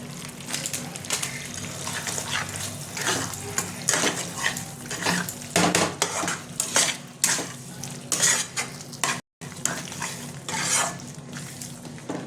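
A metal spoon scrapes and stirs a masala of spices, sugar and Kashmiri chili powder in a hot pan, with rhythmic clinks and soft sizzling, close up and without talk.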